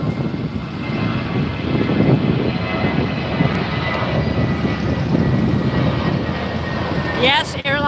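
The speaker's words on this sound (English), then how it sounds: "Airbus 380 Emirates. There it goes, rolling across." An Emirates Airbus A380 airliner taxiing at Los Angeles International Airport, its engines a steady rumbling roar heard from a distance against open airport ambience, with a brief sharper sound near the end.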